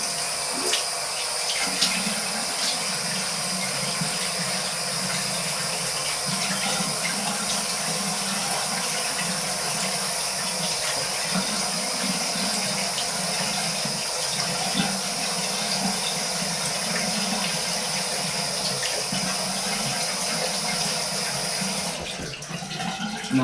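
A bathroom tap runs steadily for a face rinse after a shavette shave, a constant close hiss of flowing water with faint splashing underneath, unbroken until it shifts near the end.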